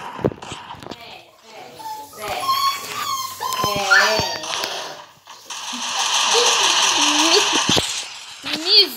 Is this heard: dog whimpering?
yes